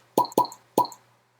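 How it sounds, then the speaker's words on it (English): Three quick hollow cork pops from a bottle of Balvenie 14 Caribbean Cask whisky, close and distinct, the last after a short pause. "Not the greatest cork pop."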